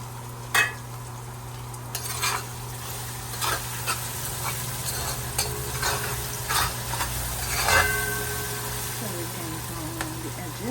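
Onion and garlic with salt and pepper fry in a pot for Divali curry, a steady close sizzle with occasional stirring scrapes and clinks under a continuous low hum.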